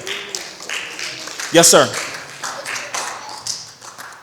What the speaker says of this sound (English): Clap it up for that, y'all.